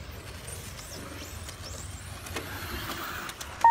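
Radio-controlled race cars tear around the track at Intrepid RC Racing Park, their high-pitched electric whine rising and falling in quick sweeps as they pass, fairly faint over a steady low background rumble.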